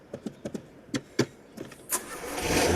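A car engine cranks and starts after a series of short clicks and whirs, then rises into a steady running roar at the end, fairly close, with no speech.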